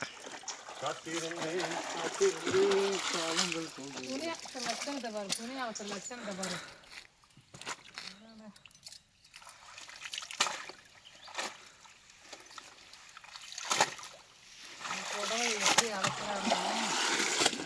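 Water splashing and sloshing as people bathe in a river, in bursts, while several voices talk and shout loudly in Tamil over it.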